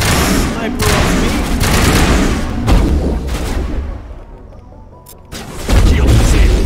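Dense gunfire and sharp sniper shots crack in a Mass Effect 1 firefight against mercenaries, loud repeated bursts with a few brief pauses and a heavy final volley.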